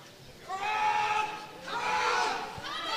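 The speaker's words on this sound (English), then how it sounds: "He gets a massive cheer from the Richmond crowd." The Richmond crowd cheers a lawn bowls player during a Metro Division 1 semi-final against Whittlesea, two loud swells of voices rising and falling in quick succession.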